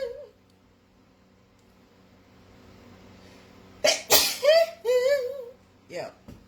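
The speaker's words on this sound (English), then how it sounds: "I got to sneeze" A person sneezes nearby, a sudden loud burst followed by a couple of short after-bursts and a sung, tonal trailing sound, with a further brief vocal noise after a quiet stretch of room tone.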